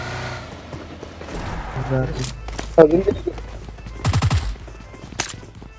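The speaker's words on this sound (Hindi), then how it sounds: "यहाँ आते ही मुझे गोलियां चलने की आवाज आती हैं, सुनो आप भी।" Gunfire in BGMI (PUBG Mobile) gameplay, scattered bursts of rapid shots and sharp single cracks at mid distance, mixed with in-game engine and movement noise while someone talks over it.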